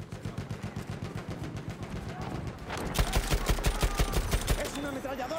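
Sustained machine-gun fire in the shooter Battlefield 1, a rapid, loud, evenly spaced burst that runs throughout and grows denser and heavier partway through.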